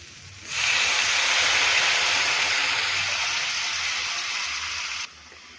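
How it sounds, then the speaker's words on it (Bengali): Hot water is poured into a spice paste frying in oil, giving a loud, steady hissing rush of steam that starts suddenly, holds for about four and a half seconds, then cuts off sharply. "এবার আমি গরম জল দিয়ে দেব"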